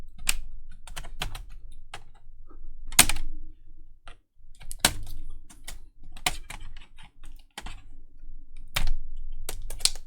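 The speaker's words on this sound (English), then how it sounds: "get fingers under the middle of the keyboard, and then just poke along the top where it's catching" A laptop keyboard is pried loose from its case with fingers and a prying tool, giving sharp plastic clicks and snaps at irregular intervals, close and crisp, with quiet gaps between them.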